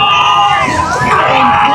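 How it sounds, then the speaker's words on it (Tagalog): Spectators at a race by Manila Bay cheer and shout together, a loud, close wall of excited voices and whoops that swells without pause for the short stretch. "Ayan, mga kasamahan din nila naghiyawan."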